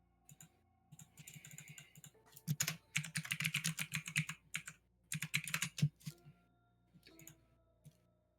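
Typing on a computer keyboard, rapid bursts of close, crisp keystrokes in two main runs with short pauses between them, over a faint steady hum.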